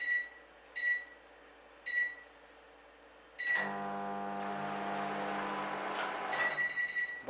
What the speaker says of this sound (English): Put the plate in the middle of the microwave and close her up.